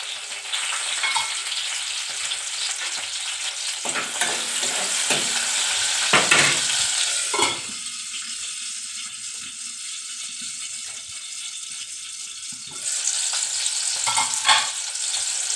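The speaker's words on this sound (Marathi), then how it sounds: "लसूण चांगले भाजून झाल्यानंतर आपण इथे टाकणार आहे टोमॅटो." Tomatoes fry in a pan with roasted garlic for a prawn curry, a loud close sizzle with stirring scrapes that quiets for several seconds and then surges again, with no speech.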